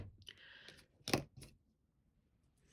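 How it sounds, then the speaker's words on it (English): A few crisp snips of scissors cutting a length of lace bobbin thread, close and quiet, with a short rustle before and near-silence after. "So I'm just going to cut off a length for the other bobbin."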